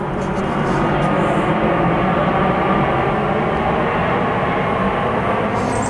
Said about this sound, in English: hit record right when a plane shows up to ruin another Earl video